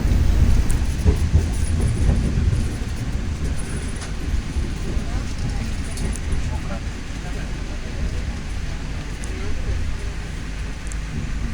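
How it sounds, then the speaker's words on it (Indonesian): The Taksaka train goes past, heard from inside another moving train at night as a steady, broad rumble with faint rail clatter and muffled voices. "Nah, itu ada rangkaian kereta Taksaka ya."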